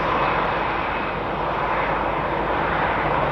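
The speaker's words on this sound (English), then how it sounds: "Little Diddy A319, not one of my favourite planes." An Airbus A319 airliner at Madrid Barajas Airport, a steady loud jet engine roar with broad hissing rumble that holds constant throughout, heard alone without voices.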